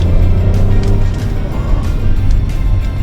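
Inside a Hyundai Staria van on a test drive, a steady low road and engine rumble fills the cabin throughout, loud and continuous with no clear changes.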